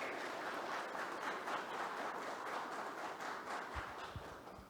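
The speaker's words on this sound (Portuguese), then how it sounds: "Uma salva de palmas, por favor." An audience at a private-security business event applauds to welcome a speaker to the stage, a continuous even clapping across the room at moderate level, with a few low thumps near the end.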